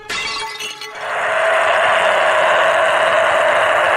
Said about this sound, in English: did we hear something shatter upstairs